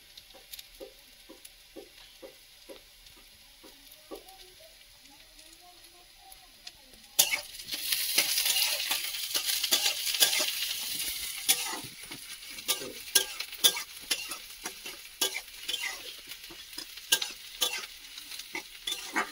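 Chopped ginger and garlic hit hot oil in a pot for an Odia-style chicken soup, bursting into a loud, steady sizzle partway through, with a spoon stirring and scraping against the pan in quick clicks over the frying hiss; no talking.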